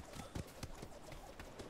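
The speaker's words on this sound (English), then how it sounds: "Oh, horse is following me." Horse hooves clip-clop in the Atlas survival game, a quick run of light, evenly spaced footfalls over a steady background of game ambience.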